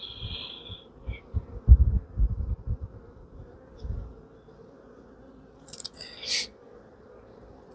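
Honeybees at an apiary hive during a frame inspection, a faint low buzzing with intermittent close thumps and handling bumps, plus a few brief high-pitched scrapes, no speech.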